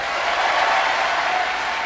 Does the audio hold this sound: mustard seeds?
no